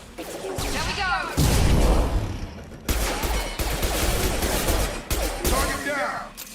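Heavy gunfire rages in a Mass Effect 2 firefight, sustained rattling bursts with booming impacts and crashes, loud and close, broken by short pauses, and battle voices shout over the shooting.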